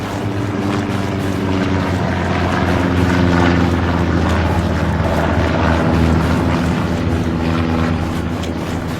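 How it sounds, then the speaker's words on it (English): A propeller recon plane drones overhead in the World War II shooter Hell Let Loose, a loud, continuous engine hum that swells slightly mid-pass and holds steady without speech. "Recon plane flying in from, I'm going to say, north to the south."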